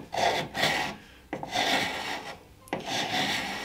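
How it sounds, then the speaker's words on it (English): Carbide scraper dragged over thick, chippy chalk mineral paint on wood, three long rasping strokes in quick succession, close and fairly loud with short pauses between. "I know I said I wasn't going to use my carbide scraper, but I'm intrigued."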